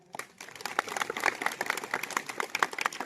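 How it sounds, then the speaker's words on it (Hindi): Crowd clapping at a political rally, a brief patchy burst of applause that swells slightly and stays fairly quiet and distant. "बजाओ यहां तालियां"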